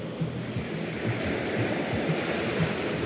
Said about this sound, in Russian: Накат.